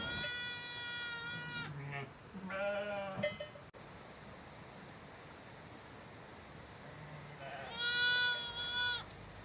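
A newborn lamb and ewes bleat on a farm. Several loud, wavering calls come in separate bursts, near and clear, with quiet pauses between them.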